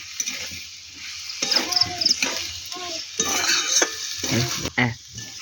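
Potato pieces with a whole bay leaf are stirred in a sizzling pan for a potato curry, with a spatula scraping and clinking against the metal in uneven bursts over a steady close frying hiss.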